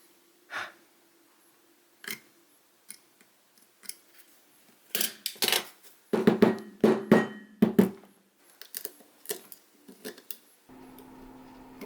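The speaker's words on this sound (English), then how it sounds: "use the blade to slowly chip out the pieces" Knife blade chipping out cracked iPhone X camera lens glass: series of small sharp clicks and scraping taps, irregular and close, growing busier in the middle, followed by a faint steady hum at the end.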